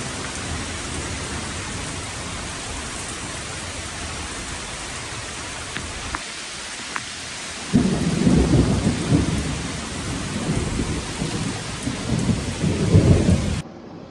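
A thunderstorm during a lightning barrage in New Jersey brings steady heavy rain hiss, a few sharp cracks, then a deep rolling thunder rumble that swells and lingers loudly near the end.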